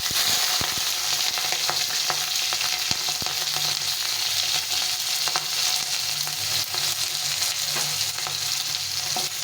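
Dried red chili, a bay leaf, five-spice seeds and ginger fry in hot oil in a pan, giving a steady, close sizzle with scattered crackles and stirring taps and no talking.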